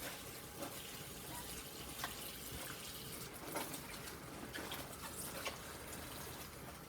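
Collard greens are washed in water, with soft, continuous splashing and running-water sounds, fairly quiet and without talking.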